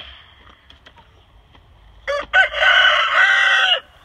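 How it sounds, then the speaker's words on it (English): A rooster crows loudly and close by: two short clipped notes, then one long drawn-out call, against quiet outdoor background. "this is one of our big rooster the beautiful one"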